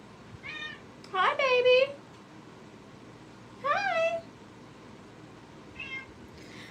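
A house cat meows several times indoors, short close cries spaced a couple of seconds apart, interleaved with soft, brief human speech.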